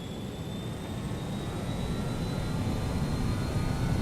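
BAe 146 jet engines spooling up for takeoff in Microsoft Flight Simulator, a steady, rising roar with thin high whines running across it, growing slightly louder over a few seconds.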